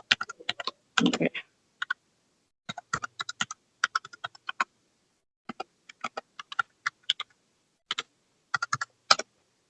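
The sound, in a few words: typing on a computer keyboard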